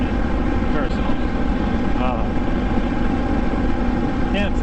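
A Yamaha MT-10 motorcycle fitted with an Austin Racing exhaust gives a loud, steady, deep rumbling drone close by, with faint voices or bird-like chirps flickering over it.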